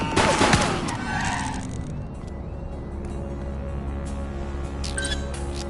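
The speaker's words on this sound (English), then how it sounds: "He's shooting!" Gunfire in the police video game The Precinct, a loud burst of shots up front that fades into a steady hum of game ambience with a few faint later cracks.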